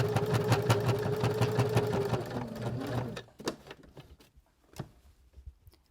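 A sewing machine stitching fabric for a small DIY sewing kit: a steady, rapid mechanical whirr and needle thump for about three seconds, then it stops, leaving a few soft clicks and handling knocks.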